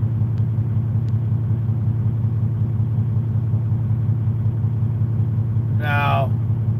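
A pickup truck pushes a trailer toward a drop beside train tracks, its engine rumbling steadily and close the whole time, with a brief sharp squeal near the end.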